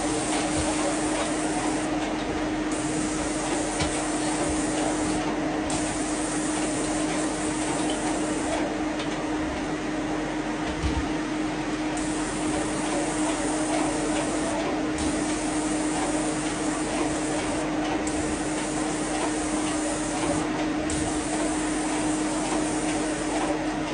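A Graco Powershot airless paint sprayer runs continuously while spraying a wardrobe, a steady loud hissing drone with a faint motor hum and brief breaks in the spray throughout.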